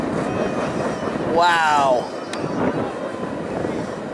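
A CSX empty freight train of tank cars pulled by a single engine rolls past at Highland, New York, heard from a walkway above the river line; a steady rumble and clatter, with a brief whistle-like tone and one person exclaiming.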